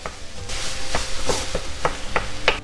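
A pound of ground turkey sizzles in a hot pan while being broken up, with a steady frying hiss and a run of sharp, regular scraping and tapping strokes from the utensil, close and alone without voices.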